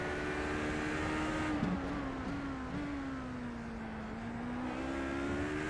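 A race car in a sports car race heads into a chicane, its engine a sustained droning whine that sinks in pitch as it slows, then climbs again, heard fairly faint and continuous.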